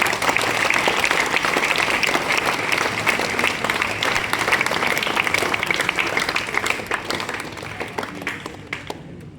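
A school audience applauds in welcome of a teacher, with dense, sustained clapping from many hands that holds steady and then thins out, leaving a few scattered claps at the end.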